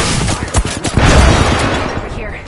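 A grenade blast and bursts of gunfire from a PS4 video game, loud and dense, with a sharp booming hit near the middle and rattling shots running throughout.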